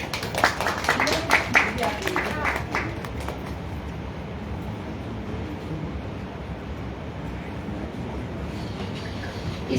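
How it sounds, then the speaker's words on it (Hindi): A crowd applauds in a burst of clapping near the start at a women's award ceremony, then the clapping fades into a steady wash of room noise. "भाई जोरदार तालियां।"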